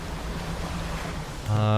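Water washes and rushes steadily as a boat moves through oily water in the fishing game Dredge, loud and close, then a rising tonal mechanical hum joins near the end.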